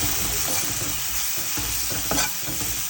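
Crab gravy being stirred in a pan, with a continuous close sizzle and soft scraping strokes, one louder scrape near the end, and no voices.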